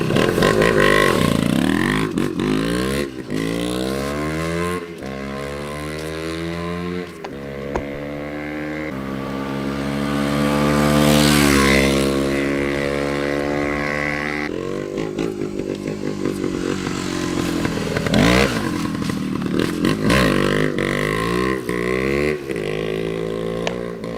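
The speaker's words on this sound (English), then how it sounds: "This one will just keep revving, nice and clean, awesome." A small 1971 Yamaha DT1 two-stroke motorcycle engine revs up and down repeatedly, close by, its buzzy pitch climbing and falling in quick bursts.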